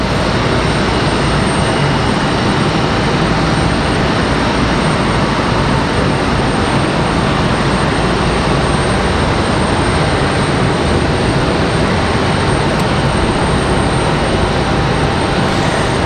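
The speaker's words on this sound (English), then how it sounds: "This is American Airlines 1891 coming in from Miami. It's going to be another A319." An American Airlines Airbus A319 arriving from Miami at Raleigh-Durham International Airport, its engines a loud, steady, broadband roar that holds constant throughout.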